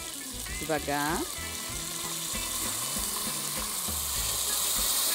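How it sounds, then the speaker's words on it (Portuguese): Water poured into a hot pressure cooker holding meat, setting off a loud, dense hiss of sizzling and bubbling that builds and carries on steadily, with someone speaking briefly over it near the start. "agora eu vou baixar o fogo um pouquinho, porque eu vou acrescentar aqui a água"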